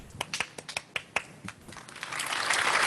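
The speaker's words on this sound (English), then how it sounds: "round of applause to you guys" An audience at a live Talkaoke show in Aberfeldy starts with scattered individual claps that swell into fuller, sustained applause near the end.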